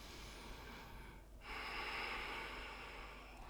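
Deep yoga breathing, a faint, slow inhale that fades into a pause, then a longer, breathy exhale through the nose or mouth, close and quiet with no talking.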